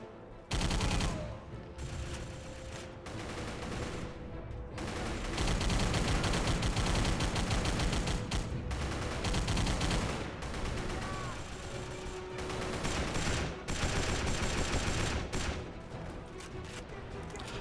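Video game gunfire mowing down enemies at a spawn point: sustained rapid shooting in long dense bursts with brief gaps, loud and continuous over a soundtrack bed, with a voice talking at times.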